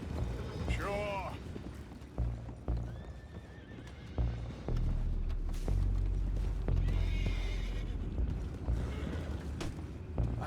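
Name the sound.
horses neighing, video game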